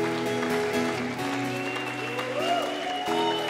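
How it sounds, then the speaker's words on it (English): A church congregation at worship claps and cheers amid sustained music, with rhythmic hand claps and raised voices blending into a steady roar. "Come on, give God a clap and shout."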